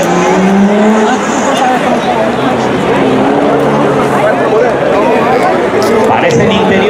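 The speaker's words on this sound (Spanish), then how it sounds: "Ahí está Quique Álvarez frenándolo justito para ajustar la media de velocidad antes de la línea de meta" A BMW 323 classic rally car brakes hard just before the finish line on a regularity stage at Rally Maspalomas. Its steady engine roar runs under continuous commentator talk.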